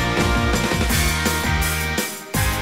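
A cartoon band plays guitar, drums and piano together, a dense, loud and continuous stretch of music with rhythmic drum hits and a brief dip near the end.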